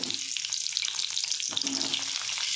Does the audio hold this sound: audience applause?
no